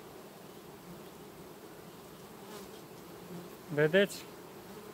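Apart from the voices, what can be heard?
honeybees buzzing at an opened beehive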